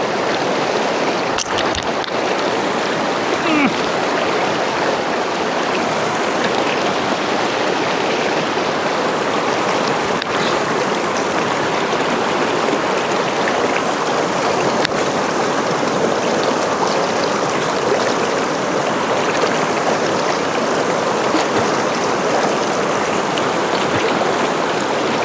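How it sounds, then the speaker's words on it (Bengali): A fast, dangerous river current rushes in a loud, steady roar of churning water that fills the whole stretch without a break. "এই যে বাবা এমনি মারাত্মক স্রোত"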